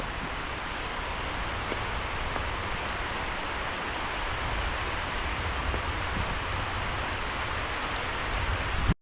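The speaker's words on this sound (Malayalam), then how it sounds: "അടിപൊളി മഴ" Heavy rain falls steadily, a continuous close hiss with scattered drop patter, unbroken for the whole stretch.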